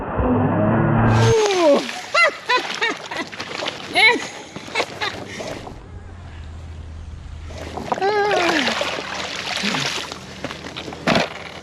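An Arrma Outcast RC car is launched off a jump into a pond, its motor whining before a watery splash and sloshing, with people talking and cheering over it outdoors.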